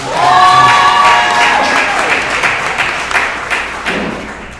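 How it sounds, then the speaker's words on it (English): An audience applauds girls volleyball players and their coach at a team event, loud mixed clapping and crowd noise with a few thumps, opening under a brief voice and gradually tapering. "Please give them a round of applause"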